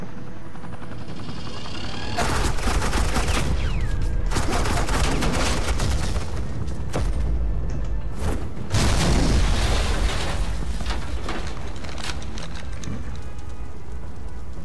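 Suppressing gunfire in the video game Batman: The Enemy Within, loud sustained bursts of automatic fire mixed with booms and a helicopter-like drone, starting after two seconds and pulsing on and off through the rest.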